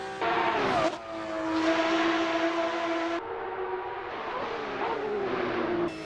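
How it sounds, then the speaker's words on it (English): A Porsche race car in a racing sim on the Nürburgring Nordschleife, braking hard into a lock-up. The engine drones loud and close, shifting pitch as the car slows and then pulls away, with no talking. "Little lock up there for the Porsche"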